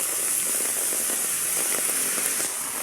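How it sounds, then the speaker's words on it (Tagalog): Steady, dense hiss of heavy rain pouring down in Manila, constant and loud throughout with a scattering of sharper drop hits. "lakas ng ulan"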